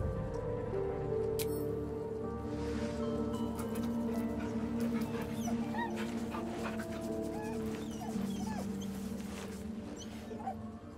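A dog whimpers in the fantasy video game Baldur's Gate 3, faint, thin cries surfacing briefly over a steady bed of game ambience and soft music, with no one speaking.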